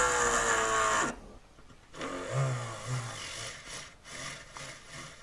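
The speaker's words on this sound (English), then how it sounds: "But I'm using this on my drill, and it literally feels smoother. It sounds smoother." A drill runs with freshly applied lubricating oil, a loud whirring grind for about a second, then quieter rasping, rubbing bursts that rise and fall close by.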